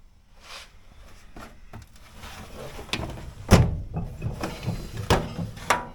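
A metal tool drawer in a workshop slides and rattles with a series of sharp clacks and knocks, the loudest thump near the middle, with several more clanks afterward.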